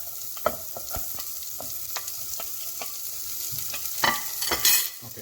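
Garlic, ginger and curry leaves being tempered in hot oil in a pan, with a steady sizzle under repeated sharp clinks and scrapes of a spoon stirring, louder spatters near the end.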